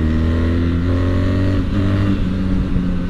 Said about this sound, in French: le moteur s'exprime vraiment très fortement à partir de 6000 tours